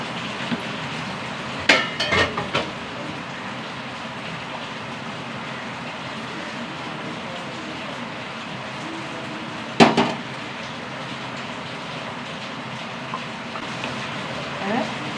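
Heavy rain pours steadily over an outdoor cooking spot, a dense, even hiss filling all 15 seconds, with a few brief clanks of cookware cutting through near the start and again around the ten-second mark.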